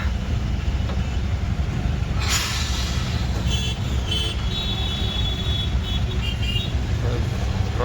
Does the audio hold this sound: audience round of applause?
no